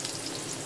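Onion frying in hot oil with cumin seeds in a home kitchen pan, a steady soft sizzle and crackle with no voices, short and moderately quiet.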